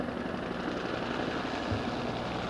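A formation of Cobra attack helicopters passes over a Pakistan Day parade air show, giving a loud, steady rotor and engine roar that holds without a break.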